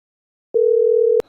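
Telephone tone on an outgoing call: a single steady mid-pitched tone lasting about two-thirds of a second, cut off by a click, followed by faint line noise.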